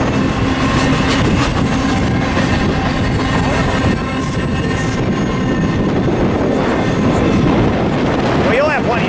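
Freight train rolling past at Barstow, a loud, close, continuous rumble and rattle of cars with wind buffeting the microphone and metallic squeals near the end.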